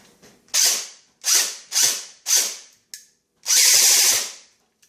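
An airsoft gearbox fitted with a new high-performance motor cycles in four short, sharp bursts with a brief click between them, then one longer sustained run, loud and close with no talking.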